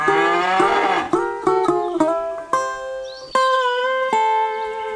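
Cartoon cows moo repeatedly, several long, drawn-out lowing calls close by, overlapping in a loud rhythmic series.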